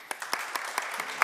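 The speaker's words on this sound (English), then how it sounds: "an applause, please." A summit audience gives short, scattered applause to welcome a researcher to the stage: a handful of separate claps spread across a brief moment, moderately loud with no speech.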